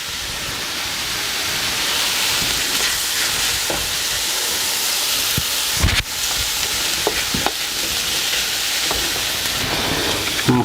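Broccoli, garlic and peppers stir-frying in a hot pan for chicken stir-fry, a loud continuous sizzling hiss with occasional sharper clatters and a spatula scrape near the middle, close and steady with no talk.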